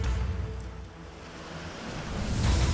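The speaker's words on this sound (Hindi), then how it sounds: "चिनाब नदी में लहरें किस कदर उमड़ रही हैं" Swollen Chenab river surging after a cloudburst in Akhnoor, heard as a continuous roaring wash of rushing water that swells louder toward the end, with wind-like noise and no voices.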